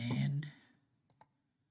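Two quick mouse clicks while selecting geometry in GibbsCAM CAM software, sharp and close, following a stretch of speech that fades out first.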